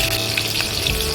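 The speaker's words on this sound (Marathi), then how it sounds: "आता जिरं टाकलं, आता कढीपत्ता टाकूया" Cumin seeds and curry leaves sizzle in hot ghee for a fasting-day thali, a loud, close, continuous frying hiss with no talk.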